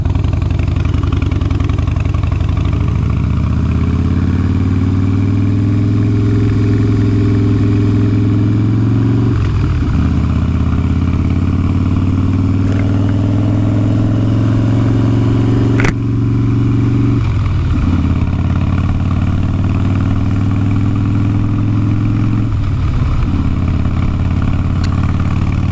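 A motorcycle engine runs close and loud for a long stretch in traffic, rising through repeated accelerations and gear changes with rhythmic drops between pulls. There is no talking.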